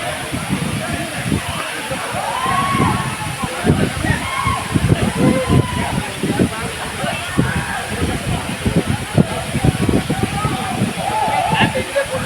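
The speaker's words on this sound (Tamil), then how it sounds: "ஃபால்ஸோட சவுண்டை கேளுங்க, செம்மையாக இருக்கும்." Waterfall at Aagaya Gangai in the Kolli Hills, a steady broadband rush of falling water running throughout, with people talking over it.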